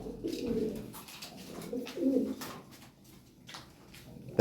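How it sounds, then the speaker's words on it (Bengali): Soft, low coos of Lahori fancy pigeons repeat in rolling bursts at close range, with a faint sharp click right at the end. "এটা শো কোয়ালিটি কবুতর একদম"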